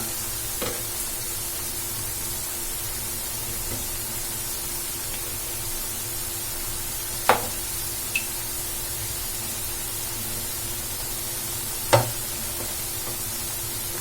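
Potato snack frying in oil, with a steady, even sizzling hiss throughout and a few sharp clicks as the pieces are turned.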